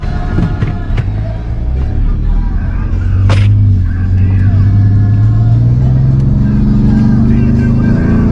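Turbocharged car engine in a 1965 Ford Mustang Fastback building revs under acceleration, a steady close rumble with a rising tone, heard from inside the car.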